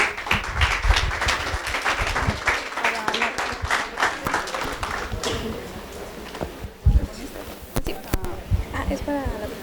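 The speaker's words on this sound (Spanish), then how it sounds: "Recibámosla con un fuerte aplauso." Audience applause welcoming a speaker at a legal conference, uneven clapping that thins out over time, with people talking over it.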